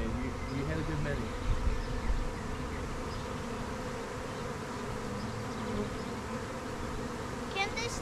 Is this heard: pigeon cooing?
no